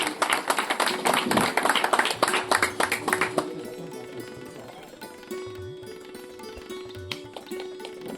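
A crowd claps for journalist Vishal Satyavan Rane at a gathering at the Kulaswamini Sateri Devi temple in Chipi village, Sindhudurg. The dense, lively clapping fills the first few seconds, then thins to scattered claps over a faint sustained tone.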